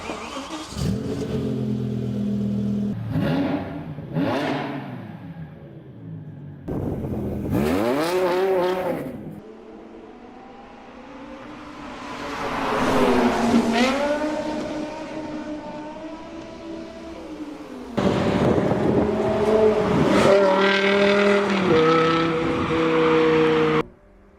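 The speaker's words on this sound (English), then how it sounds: "This version that we have in front of us is powered by the V10 from the M5 E60." A rare sports car powered by the BMW M5 E60 V10 revs repeatedly at a cars and coffee meet in the Netherlands, with several loud sharp rising and falling bursts, close and with no one speaking.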